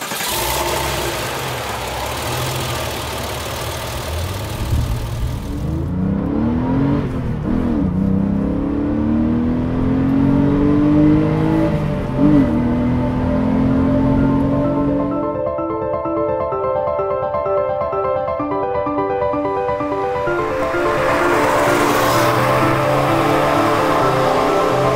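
A 1996 Porsche 993 Carrera 4 with a naturally aspirated engine idles steadily, then revs up in two rising sweeps before settling back to a smooth, even idle, heard up close with no talking.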